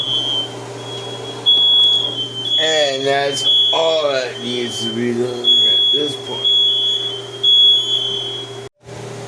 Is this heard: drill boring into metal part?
no